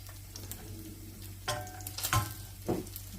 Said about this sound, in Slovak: V nejakom malom hrnci roztopíme maslo